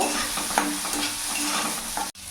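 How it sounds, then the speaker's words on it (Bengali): Boiled soybean chunks frying in hot oil in a pan, a continuous loud sizzle with occasional stirring scrapes, ending abruptly. "সয়াবিনটা আমি সেদ্ধ করে রেখেছিলাম, সেটা তোমাদেরকে আর দেখাইনি। একটু ভাজা ভাজা করে নেব।"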